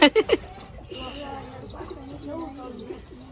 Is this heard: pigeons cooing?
yes